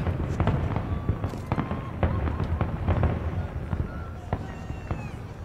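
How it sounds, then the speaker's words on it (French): Fireworks bursting repeatedly in Assassin's Creed Unity, a steady barrage of crackling pops and booms at mid distance over a dense game soundscape, with faint crowd-like murmur underneath. "Oh, feu d'artifice en plus."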